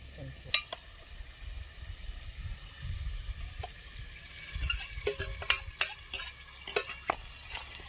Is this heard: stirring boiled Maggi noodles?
yes